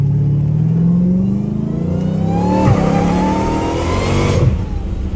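Catless Dodge Challenger Hellcat Redeye supercharged V8 revving hard up through the range, a loud close engine roar with rising supercharger whine, easing briefly before climbing again.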